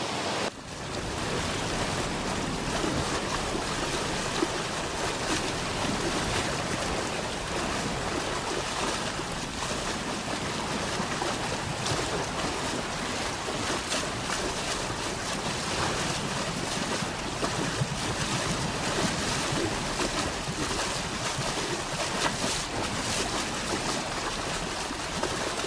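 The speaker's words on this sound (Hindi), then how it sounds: "आप झरना देख ही सकते हैं।" A waterfall in a Himalayan village, Banas in Uttarkashi, roars as a constant loud, broad wash of falling water that holds unbroken for the full length, with no talking.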